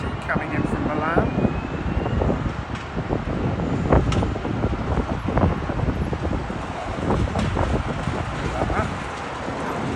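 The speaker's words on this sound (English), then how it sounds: "British Airways Airbus A320 coming in from Milan." A British Airways Airbus A320 coming in to land at Heathrow after a flight from Milan, its engines a steady loud roar with wind buffeting the microphone and a person speaking briefly over it.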